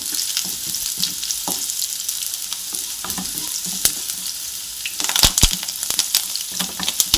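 Mustard seeds fry in oil in a pan while a Kuttanad-style kappa and chicken dish is cooked: a steady close sizzle, stirring scrapes, and a burst of sharp pops and crackles midway.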